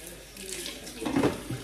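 Kitchen tap water running into a sink while dishes are washed, a short soft splashing stream with a louder gush near the end, close by.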